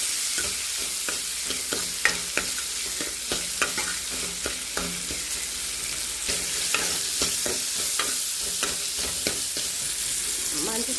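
Onion and tomato sautéing in a hot pan with curry leaves and salt, a continuous close sizzle broken by repeated spoon scrapes and stirring knocks.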